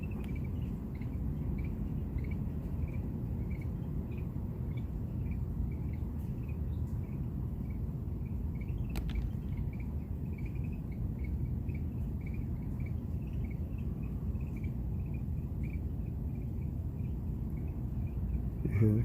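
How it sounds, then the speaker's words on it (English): Crickets chirp at night in a continuous, evenly pulsing high trill that runs the whole time over a low background hum, moderately faint and unbroken by talk. "Crickets are chirping."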